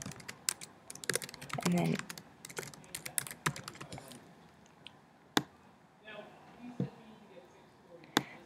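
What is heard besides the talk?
typing on a computer keyboard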